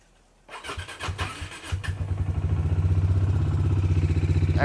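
Motorcycle engine cold-started on a snowy morning in Yumthang Valley, Lachung: a close, loud crank and sputtering catch that settles into a steady, rapidly pulsing idle.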